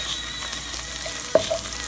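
Egg for shrimp fried rice being scrambled in a frying pan, with a steady close sizzle and a brief scrape or tap of the utensil near the end.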